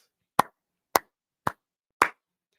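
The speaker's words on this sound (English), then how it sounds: "Let's all stand up and clap for real talk." Four sharp hand claps, evenly spaced about half a second apart, close and dry with nothing else around them.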